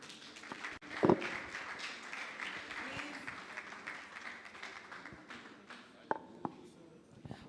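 A seated audience at a fintech forum in Freetown, Sierra Leone, applauds after a product presentation. The clapping is a steady, dense wash filling the room for several seconds, with a few sharper knocks standing out.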